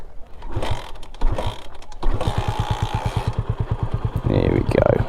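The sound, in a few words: Honda CB250RS motorcycle engine starting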